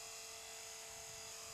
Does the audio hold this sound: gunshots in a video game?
no